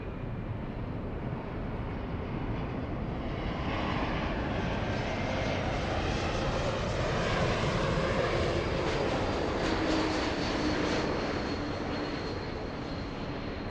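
Airplane engine drone on final approach, a steady broadband roar holding at constant loudness throughout, fairly distant and alone with no voices.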